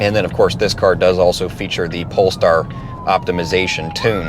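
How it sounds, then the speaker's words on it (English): A siren from a passing emergency vehicle wails as a steady tone sliding slowly downward, sounding behind someone talking about a Volvo XC60 T8 plug-in hybrid, steady in level and partly masked by the speech. "Sorry about the siren there, can't do anything about that."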